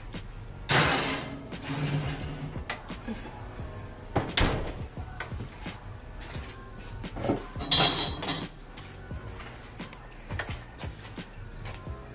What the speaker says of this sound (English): Now I'm going to put it back in the oven.